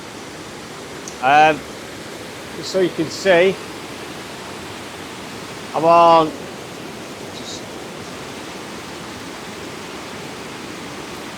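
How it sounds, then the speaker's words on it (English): Loud rushing river water in Glen Coe, Scotland, fills the whole scene as steady broadband noise, with someone briefly speaking over it. "Apologies if you can't hear me over the water."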